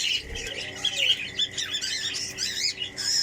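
Pet parrots squawk and chirp while eating okra, giving sharp, close, repeated calls over a soft background hiss, with a faint voice in the background.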